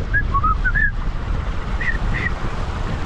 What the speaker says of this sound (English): Sorry, my whistle failed at the end.